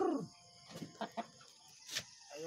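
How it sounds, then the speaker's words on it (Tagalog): Pet rooster being fed, giving a few short close clucks and calls spread across a couple of seconds, with quiet pauses between them. "Ang ating alagang rooster."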